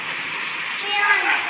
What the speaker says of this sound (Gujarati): વરસાદ જોઈ લો જબરજસ્ત પડવાનો ચાલુ